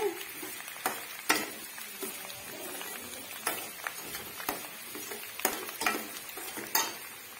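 Raw jackfruit and potato fry in a pan with a sizzle, broken up by repeated sharp scrapes and clatters of stirring, close and moderately loud.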